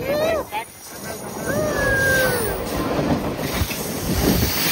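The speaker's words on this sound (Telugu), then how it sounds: "ఇప్పుడు ఇలా ట్రైన్ వచ్చింది" A train rumbles and screeches along the tracks near Matheran, Maharashtra, with squealing metal tones, while voices talk over the noise.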